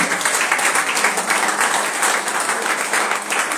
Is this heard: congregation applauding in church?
yes